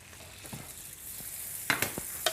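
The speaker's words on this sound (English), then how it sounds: "into just a little pan with just a tiny bit of brown butter, you add those, and see, if you toss these around" Gnocchi tossed in a small pan with a little brown butter give a soft, steady sizzle, with a few sharper scrapes and clinks of the pan near the end, close and fairly quiet.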